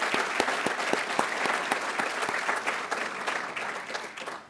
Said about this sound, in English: So I'd really like a loud round of applause for the effort that these students have put into their work.